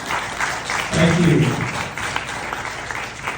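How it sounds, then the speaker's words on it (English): Festival audience applause, a broad wash of clapping that swells near the one-second mark and then thins, with a brief spoken thank-you over it. "Please, let's give them a round of applause."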